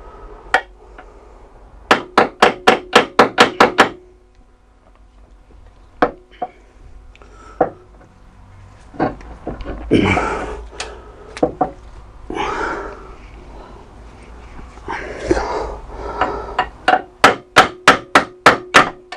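Sharp metallic hammer blows ring out in quick bursts of six to eight strikes, driving a suspension arm part out of a Chrysler PT Cruiser, with scraping and clunking between the bursts.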